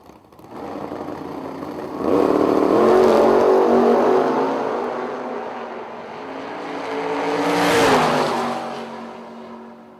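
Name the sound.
drag race cars accelerating down the lanes, including a Firebird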